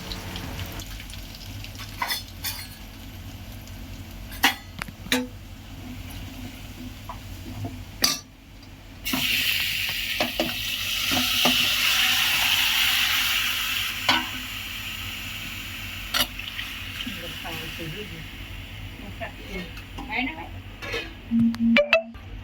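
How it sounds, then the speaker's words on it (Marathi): Chicken cooking in oil with bay leaf and garlic in a home kitchen: a quiet sizzle swells into a louder frying hiss for several seconds, with utensil clinks and stirring scrapes, and someone talks over it. "चिकन शिजवण्यासाठी तेल, तेजपत्ता आणि लसूण टाकलेला आहे. आता आपण ते एकत्र शिजवून घेऊया"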